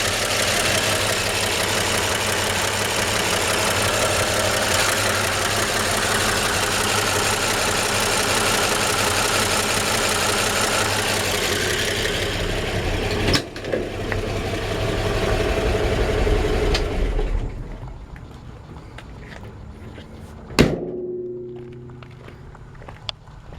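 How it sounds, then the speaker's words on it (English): A 1953 Chevrolet 3100 pickup's old inline six idles steadily with a low, slightly diesel-like rumble and faint knock, then fades out, followed by a sharp thud. "And I always thought these old inline sixes sound like diesel engines."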